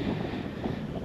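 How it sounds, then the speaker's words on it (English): Low, rumbling wind buffets the microphone outside a Cold War bunker in Montana in a steady, muffled roar with no other clear sounds. "Sorry about the wind."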